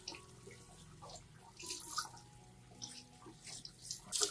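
Orchid roots gently rinsed under running water, a quiet, uneven splashing and trickling that swells and fades in spurts, close but faint, with no voices.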